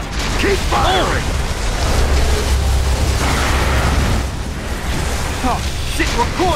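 Weapons fire and rumbling explosions in the Gears of War 3 co-op video game, with dense continuous mechanical clatter and booms running throughout, with shouting voices over the top.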